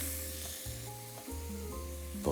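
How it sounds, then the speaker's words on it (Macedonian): Onion and green pepper fry in hot oil in a pan, giving a loud, steady close sizzle with a faint rhythmic bubbling beneath it and no one talking. "кромидот ќе го додадам да се пржи заедно со биберот"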